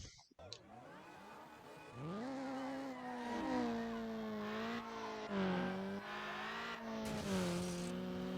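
Race cars in Need for Speed Underground, engines revving and climbing through gears with repeated upshifts, a steady loud whine rising and dropping over several seconds.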